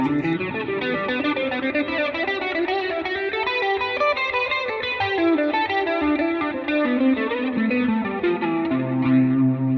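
Electric guitar, a Suhr Pro Series M8 on its neck humbucker pickup, with a warm, rounded tone, steady strummed and picked chords with a light effects sheen, playing continuously at moderate loudness.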